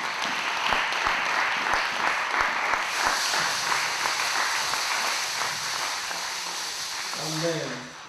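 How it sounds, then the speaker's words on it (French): A church congregation at a Sunday service applauding together: dense, sustained clapping filling the room for several seconds, then tapering off as a voice begins. "Est-ce qu'on peut applaudir le Seigneur?"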